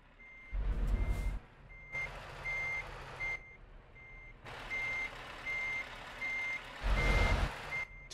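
A truck in Euro Truck Simulator 2 backs into a parking spot, its reversing alarm beeping at a steady, evenly spaced rhythm. Engine surges rise and fall underneath, with a louder burst near the start and again near the end.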